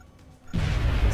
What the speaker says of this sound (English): So I'll just throw a grenade.